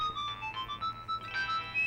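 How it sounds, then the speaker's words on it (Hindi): A phone ringtone plays a bright, beeping electronic melody of short tones. It is moderately loud over a low background hum, with no talking. "सर आपका फोन है सर?"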